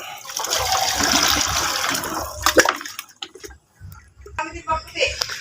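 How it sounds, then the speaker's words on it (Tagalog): Water splashes and gushes loudly into a plastic insecticide sprayer tank outdoors for about two seconds, then breaks into intermittent trickles and sloshes with short pauses. "At yung mga kasimpre ba, sasalinan ko lang po ng tubig."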